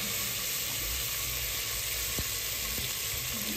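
Mint and coriander leaves sizzle steadily in hot oil for chicken biryani, a continuous close frying hiss with faint stirring clicks, no voices.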